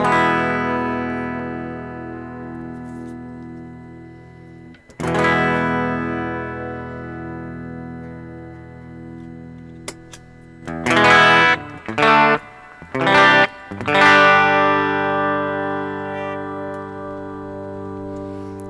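Electric guitar played through a NOTADÜMBLË overdrive-style pedal on its clean channel, sustained chords ringing out with long decays, a few short choppy strums partway through, loud and alone with no talk.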